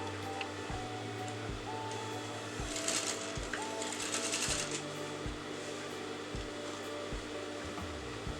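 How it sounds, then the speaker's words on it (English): A sewing machine stitches along the neckline of a kameez jacket, running in short repeated bursts with steady mechanical hum and brief pauses between runs, fairly close and moderately loud. "I'm going to sew it on top"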